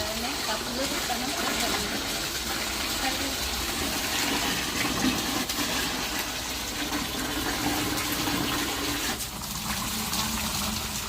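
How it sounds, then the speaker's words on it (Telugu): Tap water pouring steadily into household vessels, a constant splashing gush that fills the whole stretch, with a slight dip near the end. "త్వరగా నీళ్ళు పట్టేసుకొని అంట్లో వేసుకుంటాను"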